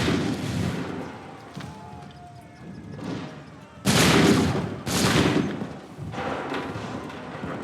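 Volleys of massed musket fire ring out in Assassin's Creed 3 combat, with several loud, sharp bursts near the four- and five-second marks. Fainter shots and a shouting voice sit in the background between them.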